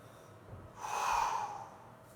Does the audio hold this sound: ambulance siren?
no